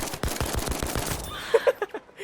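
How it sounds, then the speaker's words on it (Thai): Sniper rifle fire in the video game Battlefield V, heard as a few sharp reports spread across a couple of seconds amid busy game sounds, with dense rapid shots early on. "ด้านหน้ามีการยิงของสไนเปอร์อยู่เลยอะสไนเปอร์นอนเนียนครับนี่"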